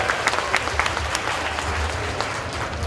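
A large audience at an archdiocese centenary celebration in Kottayam breaks into loud, sustained clapping, a dense wash of hand claps filling the whole stretch, with faint crowd noise beneath.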